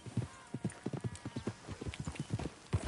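Horse hooves in the video game Red Dead Redemption 2 clip-clop in a steady, quick rhythm, quiet and close, each hoofbeat a distinct dull knock.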